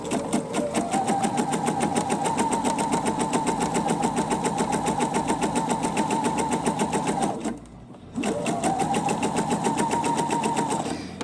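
Sewing machine running steadily while stitching a garment hem, a fast even mechanical chatter held for several seconds, a brief pause, then stitching resumes, close and clear with no talk.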